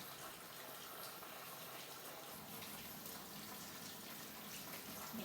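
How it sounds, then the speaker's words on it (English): Steady broadband rush of tap water running as hands are rinsed of soap in a home kitchen, continuous and fairly close with no talk over it. "Let's wash our hands. Rinse off all the soap"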